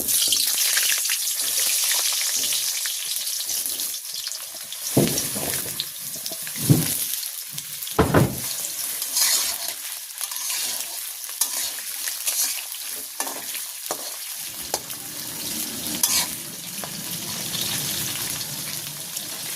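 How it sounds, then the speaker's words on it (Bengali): Potatoes frying and being stirred in a pan in a village kitchen: a steady close sizzle with scraping stir strokes and occasional knocks against the pan, running throughout with no talk. "আগে আমি আলুটা ভাজি করে নেব দিয়ে দিচ্ছি আলু"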